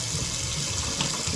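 A kitchen tap runs hot water in a steady, close, hissing rush while food is being cooked, with no talking.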